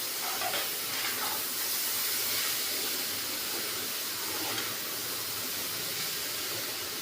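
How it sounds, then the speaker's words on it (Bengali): Mixed vegetables and flattened rice frying together in a pan for chire pulao, a steady broadband hiss and sizzle that holds fairly even throughout, close and moderately loud with no speech. "সবজিগুলো একসঙ্গে সব ভেজে নিচ্ছি ভালো করে।"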